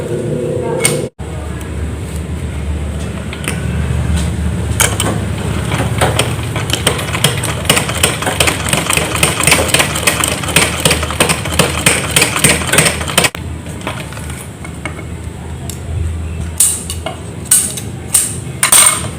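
An electric sewing machine runs continuously and loudly, stitching a seam on a kebaya kutu baru blouse, a steady motor drone with rhythmic needle clatter that barely pauses, and a voice speaking briefly over it.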